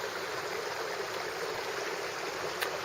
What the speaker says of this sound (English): there's a creek here, and it's really pretty. A little bit of like a waterfall.